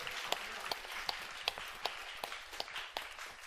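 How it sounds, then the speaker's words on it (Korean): A church congregation at a Sunday service claps together in a steady, evenly spaced rhythm, about three claps a second, sounding soft and somewhat distant across the hall. "이 복된 말씀을 인하여서 하나님 앞에 감사 박수 올려드리십시다."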